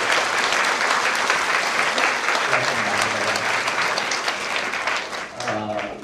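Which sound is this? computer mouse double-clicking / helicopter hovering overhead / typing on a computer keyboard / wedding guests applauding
wedding guests applauding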